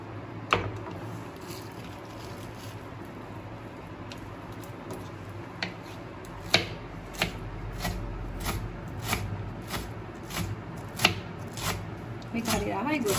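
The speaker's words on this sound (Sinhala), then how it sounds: "දැන් මම කොළ ටික ඔක්කොම කපාගෙන ඉවරයි." Asamodagam (ajwain) leaves are cut with a knife on a board for a leaf sambol, giving irregular sharp taps spread over the stretch, some louder than others, over a low steady background.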